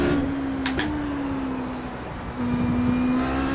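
Honda HPD ARX Le Mans prototype race car engine in iRacing at Suzuka, held at mid throttle as a steady drone with a sustained tone dipping slightly then rising, a couple of brief higher bursts early on.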